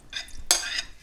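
Tomato paste and vegetable oil being stirred in a pot for a pickled cucumber and barley soup preserve, with two short bursts of spoon-on-pot scraping and a faint sizzle underneath.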